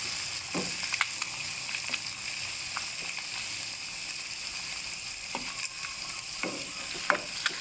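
Eggs are broken up and stir-fried in a hot pan for pad see ew with pork and wide rice noodles, giving a steady sizzle under scattered scrapes and taps of a spatula, close and even, with no voices.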